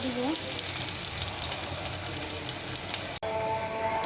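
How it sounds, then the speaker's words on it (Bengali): Coconut fritters frying in a hot pan (kadai) give a steady close sizzle throughout, briefly cut off near the end and then resuming. "এখন আমি বড়াগুলো ভেজে নেব"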